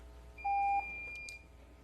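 A short electronic beep sounds once, clear and moderately loud, at a city council meeting, then gives way to faint room tone.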